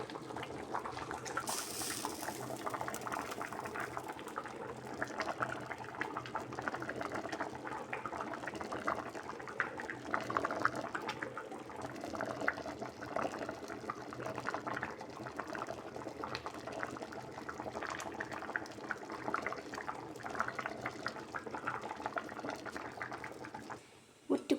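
Soup with chili peppers bubbles in a small, nearly full cooking pot, giving a soft, steady simmering hiss with faint gurgles that runs unbroken throughout, quiet and close.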